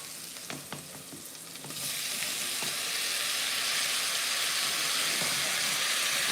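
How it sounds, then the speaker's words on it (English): Garlic sautéing in a Dutch oven breaks into a loud, steady sizzle after a couple of seconds of quieter clinks, then fries continuously and evenly up close. "the garlic won't have as much time to saute on the bottom of the pan."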